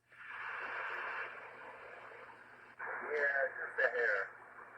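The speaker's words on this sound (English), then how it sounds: "I do have the echo up a little bit." A CB transmission from a Uniden Washington base station carries a compressed, narrowband voice with an echo effect, steady radio hiss, and a break partway through before the voice resumes.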